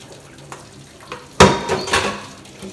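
Cooked soybeans lifted out of hot cooking water in a kitchen, a sudden clatter of a pot or utensil followed by splashing and dripping water, then a few softer knocks as things settle.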